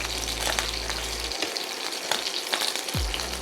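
Sous vide USDA prime steak sears in a very hot cast iron pan with smoking butter and oil, a dense loud sizzle and crackle, with a low burner hum cutting out partway through.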